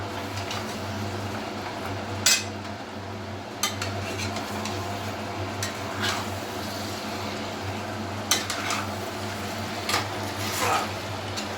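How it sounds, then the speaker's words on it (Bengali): Chicken curry is stirred and sautéed in a pan, soft scraping and clinks of a utensil against metal recurring every second or two over a steady low sizzle and hum. "ভালোভাবে কষিয়ে নিতে হবে।"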